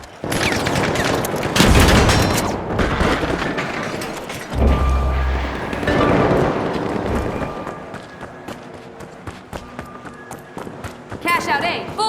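Gunfire and a frag grenade blast in the online shooter The Finals: sustained rapid shots with heavy low booms near the start and middle, loud and close, with voices talking over the action.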